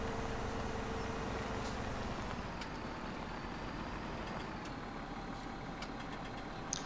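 Trucks rumble in Farming Simulator 17 with a steady, low engine drone that holds at an even loudness throughout, close and alone.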